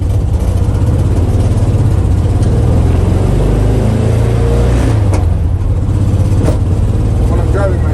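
A Subaru driving over rhythmic road bumps after a traffic light, heard from inside as a loud steady engine and road drone with faint repeated thumps underneath and a person talking over it.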